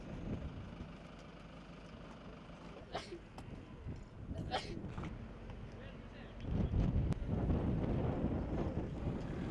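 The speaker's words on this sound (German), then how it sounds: "Scharfer Wind am nächsten Morgen kündigt härtere Wetterbedingungen an." Sharp wind gusts across the microphone outdoors at a solar car race, a continuous buffeting roar that swells louder near the end, with a vehicle engine idling faintly underneath and someone talking over it.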